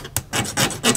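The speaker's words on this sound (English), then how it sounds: "I'm gonna try to cut that little tip off there because it's more, should be more of a ball that fits in this socket." Metal file rasping against the small metal tip of a parking brake cable end, shaping it into a ball to fit the handle socket; several close, harsh back-and-forth strokes in quick rhythm with no talking.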